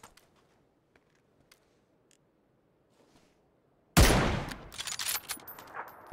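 Video game gunfire: after near silence, one sudden loud shot bursts out close by and trails off into a rattling, echoing tail.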